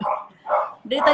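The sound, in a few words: dog barking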